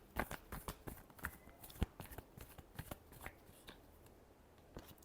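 Tarot cards are shuffled by hand in quick, irregular bursts of soft riffling clicks and slaps, close and quiet, with no voices.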